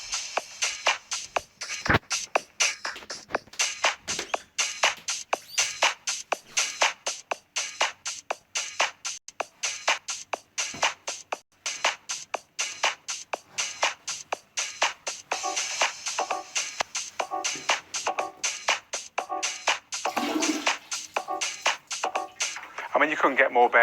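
Bare-bones straight house track with a steady four-on-the-floor beat and a short organ stab that joins later, thin and trebly as if played through a small speaker.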